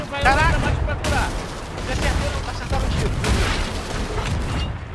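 Cannon fire from a ship in the pirate game Sea of Thieves, with repeated loud booming blasts over a dense rumbling battle din and players talking throughout.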